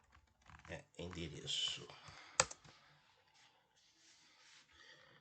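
Typing on a computer keyboard while entering a database query, heard as soft, close clicks and keystroke bursts mixed with quiet speech.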